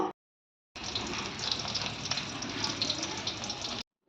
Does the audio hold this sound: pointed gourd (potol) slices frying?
yes